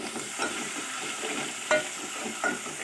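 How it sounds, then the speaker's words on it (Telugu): Onion paste fries in a pan for crab curry while a spoon stirs and scrapes through it, giving a steady sizzle broken by a few sharper scraping strokes. "ఇప్పుడైతే ఉల్లిగడ్డ పేస్ట్ వేసినాం."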